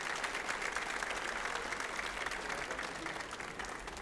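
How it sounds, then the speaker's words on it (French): Steady audience applause for the 2017 Swiss pastry team fills the room, a dense, even wash of many hands clapping at a constant level throughout. "Je vous demanderai d'applaudir, s'il vous plaît, Georges, Jean-Baptiste et Cédric."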